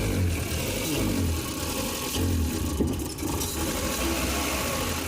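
A Maruti Eeco petrol van engine that fails to rev up when the accelerator is pressed, running with a steady mid-pitched drone and only slight swells, no clear climb in revs, close and continuous without talk.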